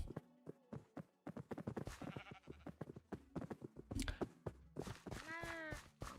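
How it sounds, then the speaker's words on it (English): Sheep bleating in the RLCraft Minecraft modpack, a short wavering bleat near the end following a run of quick clicks and footstep-like game sounds. "I just heard a sheep"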